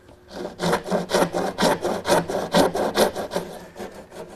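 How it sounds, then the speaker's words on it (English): A dovetail saw cuts tenon shoulders in wood, giving about sixteen steady, rhythmic push-and-pull rasping strokes, close and clear, with no talking. "I'm going to use a dovetailing saw to make a shoulder cut at the top and bottom"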